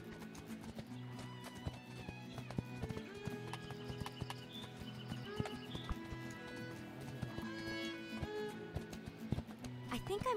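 The stallion Spirit galloping in the video game Spirit: Stallion of the Cimarron, with quick rhythmic hoofbeats running throughout under game music. Occasional neighs and some faint talk are also heard.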